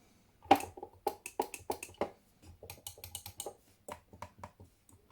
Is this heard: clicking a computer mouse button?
yes